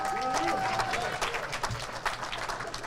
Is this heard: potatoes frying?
no